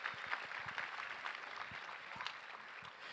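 Moderate applause from a luncheon audience at a gun responsibility fundraiser, steady dense clapping filling the room at a fairly soft, distant level.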